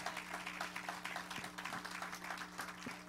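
Church congregation applauding during a Sunday service, a quiet patter of many hands clapping at an even pace, distant and faint, with a low hum underneath.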